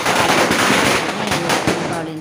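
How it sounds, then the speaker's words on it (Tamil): A chili firecracker (milaga pataas) bursting during Diwali celebrations, a loud rapid string of sharp crackling pops fired in quick succession, close by, with faint voices in the background. "மிளகா படாஸ் மாதிரி இருக்கு இல்லைங்களா அதை மட்டும் வந்து வெடிச்சிட்டு வந்துடுறேன்"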